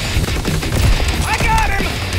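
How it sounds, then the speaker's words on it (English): Fully automatic M2 carbine fire in the video game Call of Duty: WWII, a loud sustained rattling burst mixed with dense battle noise and other game effects. "Fully automatic M2 carbine rifle."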